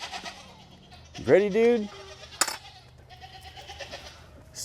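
Goats on a farm give one loud, wavering bleat close by, with a sharp clink following it and people talking briefly around it.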